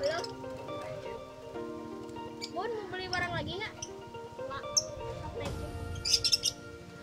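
Parakeets and lovebirds chirp in short bright bursts around an aviary cage, scattered calls heard under a voice talking close by.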